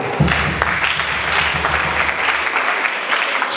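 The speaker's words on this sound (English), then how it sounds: "Can we clap for her?" An audience at a 2024 graduation ceremony bursts into applause for a guest, a dense, loud wall of clapping that holds steady throughout before trailing off slightly at the end.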